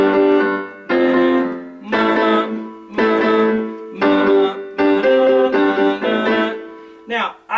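Solo piano playing the bridge of a song as repeated block chords in a steady rhythm, each sustained, close and loud, ending with a couple of shorter stabs.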